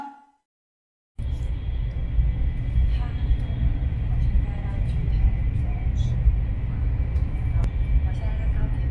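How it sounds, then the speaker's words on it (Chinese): Low, steady rumble from inside a moving high-speed train bound for Taichung, a continuous cabin drone that starts abruptly after a brief silence and runs evenly with faint clicks. "我现在在高铁上。"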